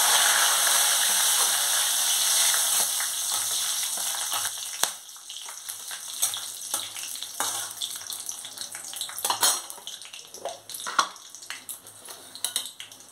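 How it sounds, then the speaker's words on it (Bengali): Cinnamon, cloves, cardamom and bay leaves dropped into hot oil and ghee for basanti pulao: a loud steady sizzle at first that settles into a softer crackle with scattered clinks of a spoon against the pan. "তেল আর ঘিটা আমার গরম হয়ে গেছে। এবার আমি এর মধ্যে দিচ্ছি দারচিনি, লবঙ্গ আর এলাচ,"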